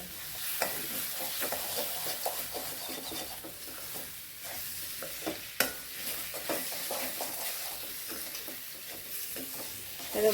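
Masala sizzles and fries in a pan while a spoon stirs it with steady scraping strokes, cooking the base for a coconut-milk bitter gourd tamarind kuzhambu; the sound is close and continuous with no talking.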